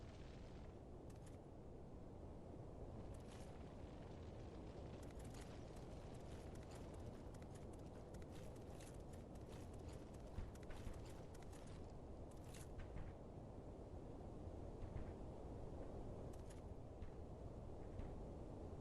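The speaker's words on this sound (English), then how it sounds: "It's a loud stomping noise off in the distance somewhere" Heavy, loud stomping footfalls thud from somewhere far off in Dark Souls 3, a steady low rumble with scattered sharper impacts running throughout, no voices over it.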